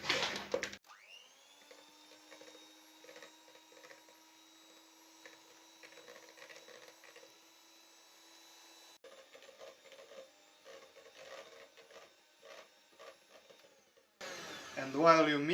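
An electric hand mixer whirs steadily through tea cookie dough, a faint constant motor whine with rattling beater clatter that shifts tone partway through, a brief louder burst at the end.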